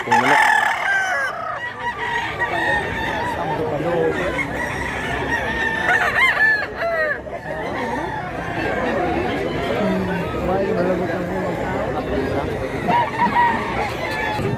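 Roosters crowing repeatedly at a rooster farm in Mantalungon, Barili, Cebu, several overlapping crows and clucks near and far, with people chattering throughout.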